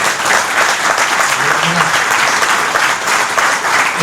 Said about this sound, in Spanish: ¿Por qué no le damos un fuerte aplauso a David?